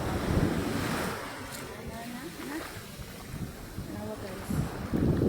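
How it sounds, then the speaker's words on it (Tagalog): Ocean waves surge and wash near the shore, rolling in loud bursts at the start and end with wind buffeting the microphone and a voice speaking faintly in between. "Sobrang alon, grabe."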